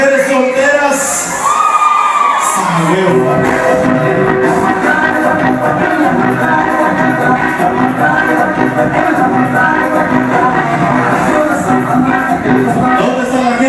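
Wedding guests at a party with a live sound system cheer and shout together as a loud crowd, sustained over the whole stretch with music and voices blended throughout.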